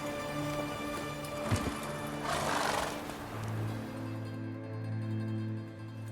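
Horse whinnying and hooves from The Witcher 3 game, a harmonic neigh over steady background music with one sharp hoof knock near the middle.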